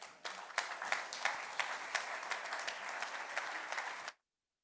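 Applause from a seated audience welcoming the speakers of a panel on artificial intelligence and tourism security, a steady patter of clapping lasting about four seconds before cutting off abruptly.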